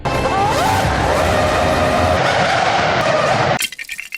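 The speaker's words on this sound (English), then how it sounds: "The Stig Hits the brakes too late and punches a big Formula One car-shaped hole in the wall" A Formula One-style car brakes too late and skids with a long, loud tyre squeal over engine noise, then slams into a wall with a sharp crash near the end, followed by scattered debris.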